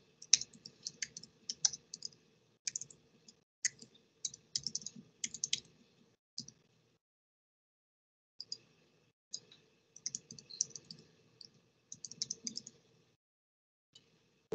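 Keys clatter on a computer keyboard as email, password and name details go into an account sign-up form, in quick irregular bursts of close, crisp clicks broken by short pauses and a longer gap midway.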